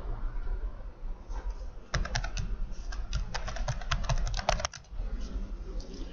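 Rapid typing on a computer keyboard in a classroom, a steady run of light clicks growing denser midway, close and fairly quiet against a low room hum.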